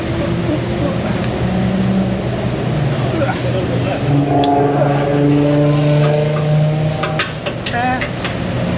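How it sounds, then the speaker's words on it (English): Drag racing cars pass on the street in front of an auto repair shop, engine roar swelling and fading through several passes, with harmonic tones sweeping past amid steady background noise and nearby voices. "Got a lot of drag racing going on in front of the shop today"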